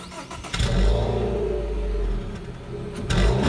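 A Dodge Dart SXT drives along while its engine rises and falls through acceleration, a loud mid-pitched hum heard from inside the car with no talk.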